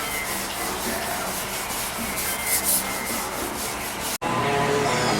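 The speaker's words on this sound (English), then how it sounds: "you start blocking out, sanding that car" Continuous close rubbing hiss of wet sanding primer on a BMW 2002 body with a sanding block, steady and loud, cut briefly then resuming with a slightly different tone.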